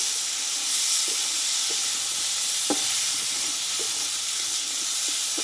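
Yardlong beans and potatoes fry in a pan, a steady close sizzle and hiss with a few faint clicks of stirring scattered through it.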